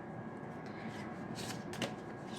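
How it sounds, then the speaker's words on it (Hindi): Tarot cards are drawn and shuffled from a deck at close range, a soft, continuous papery riffling with a couple of brief snaps and a low room hum. "इसके साथ साथ मैं एक दूसरे डेक से भी कुछ कार्ड्स लेती हूँ।"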